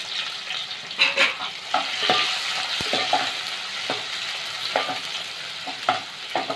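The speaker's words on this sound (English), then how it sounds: "Saute for a while. Then you put little onion slice." Sliced onion sautéing with whole garam masala of mace, black pepper and cloves for chicken dum biryani, a close sizzle broken by repeated spatula stirs and scrapes, no voices.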